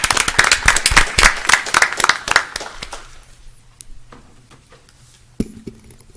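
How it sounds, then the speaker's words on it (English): A round of applause from the audience at a county board of education meeting, many hands clapping densely for about three seconds, then thinning to a few scattered claps before a single late clap. "I want to give them a round of applause"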